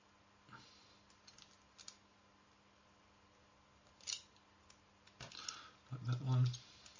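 A hobby knife cuts parts from the sprues of a 1/32 Trumpeter F-8 Crusader plastic model kit, giving a few quiet, close clicks and snips, with a sharper cluster near the end over a faint background hum.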